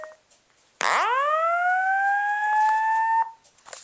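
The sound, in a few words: Simplex 4903-9146 fire alarm sounding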